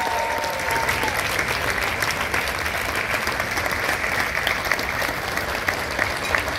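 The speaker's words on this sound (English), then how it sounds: "Please give my mom and her sister a huge hand of applause." An audience applauds for two women called up on stage, steady full-room clapping sustained loudly throughout with no break.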